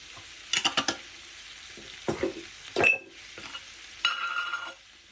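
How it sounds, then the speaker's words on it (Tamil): Spices are stirred into baby potatoes frying in a pan, giving several close, clattering scrapes of a spoon against the pan over a soft sizzle, in short irregular bursts. "இது 3 எல்லாத்தையும் சேர்த்து நல்லா அதுக்கு கலந்து விடுவோம்."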